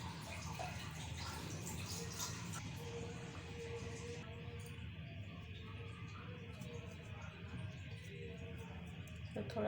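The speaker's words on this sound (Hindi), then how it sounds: "सबसे पहले हम पानी की मदद से हाथों को करेंगे गीला" Running water wets hands before shaping vegetable cutlet balls in a kitchen, a steady close splashing trickle with faint drips, continuous and alone throughout.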